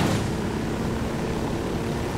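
A helicopter in the video game Ghost Recon Wildlands gives a steady, dense engine and rotor roar at moderate loudness, unbroken and with no one talking.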